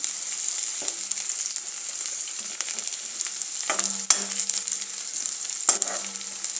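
Onions fry in a pan until reddened, giving a bright, steady sizzle close by, broken by intermittent spatula scrapes and knocks against the pan.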